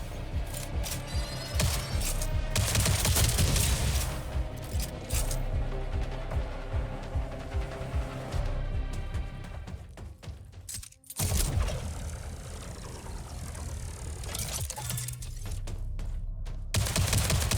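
Gunshots in the video game Jump Ship, with rapid clattering bursts of fire and mechanical clanks over a steady game soundscape, pausing briefly near the middle before resuming.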